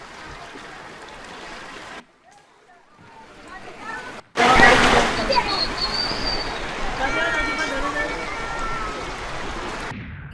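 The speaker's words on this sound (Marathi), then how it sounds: "रात्री शहरात वादळी वाऱ्यासह जोरदार पाऊस झालेला आहे।" Heavy unseasonal rain in Trimbakeshwar town after a stormy night: a dense, hissing wash of falling water and splashing runoff, loud and close, cut by short breaks, with a voice speaking over parts of it.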